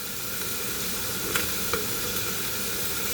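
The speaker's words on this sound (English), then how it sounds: "saute it for a while" Bitter gourd sautéing in a pan for Filipino ginisang ampalaya, a steady dense sizzle running throughout with a couple of faint clicks of a utensil, close and continuous.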